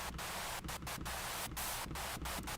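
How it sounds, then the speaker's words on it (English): Steady broadband hiss of white noise softened in FL Studio 20, with its highs cut back. The hiss runs continuously and fairly quietly, broken by a few brief dips. "how I usually soften up my white noise"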